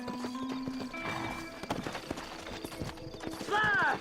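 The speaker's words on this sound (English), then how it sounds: "Horses are over here!" Horses in the video game Red Dead Redemption, hooves clip-clopping under a busy game soundscape, with a sharp neigh rising near the end.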